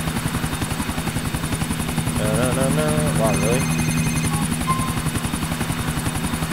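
A loud helicopter rotor chops steadily in Grand Theft Auto IV, a close rhythmic thumping with engine whine running throughout while a player talks over it briefly.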